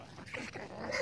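A dog whimpers and yips near a house in rural rice-field country, a short, soft, fairly close burst of sound.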